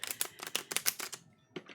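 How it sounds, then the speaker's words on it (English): Quick riffling shuffles of a stiff new tarot deck, a rapid burst of crisp flicks for about a second, then a brief pause and a couple of softer taps. "They're a little stiff to do the shuffle, I think"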